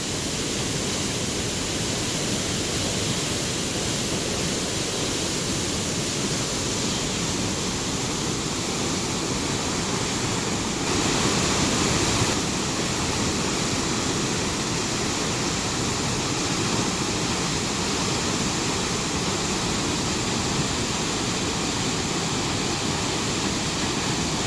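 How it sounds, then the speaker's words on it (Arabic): Continuous roar of a roadside waterfall on the route from Trollstigen to Geiranger, Norway, a dense steady rush of falling water filling the air without pause. "خليكم مع صوت الشلال"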